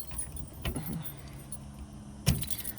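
Truck keys jangle in short metallic bursts, close by and fairly quiet, with a sharper rattle near the end over a low vehicle hum.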